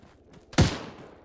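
A single heavy .50 caliber rifle shot from Arma 3 booms close and loud, with a sharp crack followed by a rolling tail that fades over about half a second.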